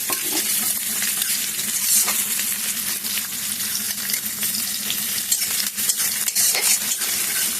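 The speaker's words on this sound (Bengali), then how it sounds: "তো রসুন আর পেঁয়াজগুলো আমি একটু লাল লাল করে ভেজে নেব।" Chopped onion and crushed garlic frying in hot oil in a pan, a steady bright sizzle close by with frequent stirring scrapes and utensil clinks, no talk.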